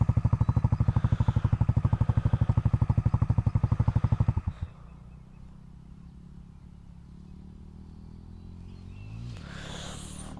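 A motorcycle engine chugs loudly and rhythmically at low revs through slow turns in a field, then cuts to a quieter, steady idle hum with a faint rising whine near the end.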